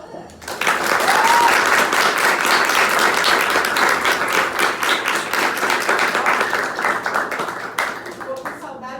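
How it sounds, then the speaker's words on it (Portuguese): Applause for a teacher after an interview, with many people clapping continuously and loudly in a room for most of the stretch, easing slightly toward the end. "E uma salva de palmas para a professora."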